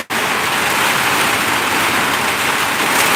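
Steady, dense rain falls without a break, a loud and close wash of drops that fills the whole moment evenly with no voices.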